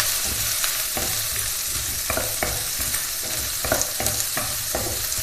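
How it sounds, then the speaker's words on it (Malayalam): Two medium sliced onions sauté in oil in a pan for a potato curry, a steady close sizzle broken by repeated scraping stirs of a spoon, with no talking. "സവാള ചേർത്ത് വഴറ്റിയെടുക്കാം."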